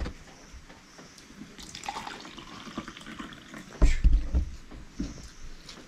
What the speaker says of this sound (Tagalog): Ayan natin yung tubig.